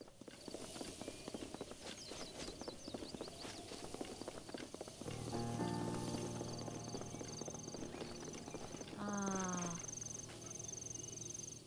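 Horse hooves clip-clop steadily in Zelda: Breath of the Wild, a brisk rhythmic walk under game music and ambient chimes, with brief tonal game effects partway through.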